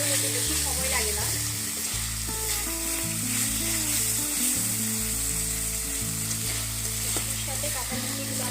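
Jackfruit pieces sautéing in a pan: a dense, steady sizzle runs throughout beneath a loud, sustained background music track.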